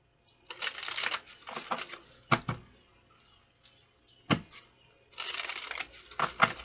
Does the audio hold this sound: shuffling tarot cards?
yes